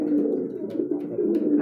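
A caged pigeon, a high-quality show breed, coos in low rolling pulses close by, several throaty calls in quick succession.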